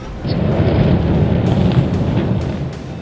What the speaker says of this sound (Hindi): इस विस्फोटक विध्वंस लीला के साथ ही जबरदस्त धमक सुनाई दी।